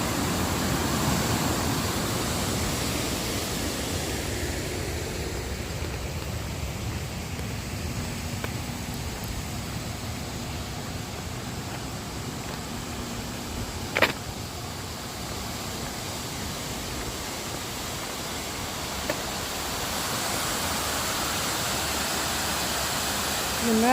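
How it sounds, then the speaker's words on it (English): Water roars steadily through open dam gates beside the trail near US Route 2, a loud, continuous broadband rush with no breaks and no voices. "A lot of water coming through there."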